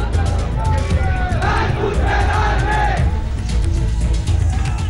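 A rioting crowd protesting the film Padmaavat roars and chants continuously outside a PVR cinema in Delhi's Prashant Vihar, a dense mass of shouting voices with rumbling traffic beneath, loud and unbroken.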